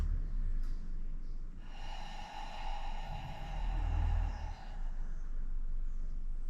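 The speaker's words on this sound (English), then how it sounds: "For me, often it's a big exhale through the mouth." One long, audible exhale through the mouth during a hip stretch, a soft breathy rush of air that rises and lingers for a few seconds, close and quiet with no talking.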